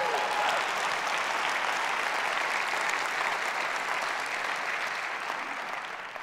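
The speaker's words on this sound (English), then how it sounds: "Do we have a clap for God here at this point?" A lecture audience gathered on a Saturday applauds steadily, a thick, even patter of many hands that tapers slightly toward the close.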